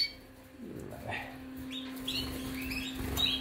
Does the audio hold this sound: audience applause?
no